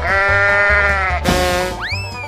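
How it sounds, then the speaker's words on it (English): A sheep bleats with a long wavering cry, nearby and loud, followed by a brief higher bleat at the end. "Sheep."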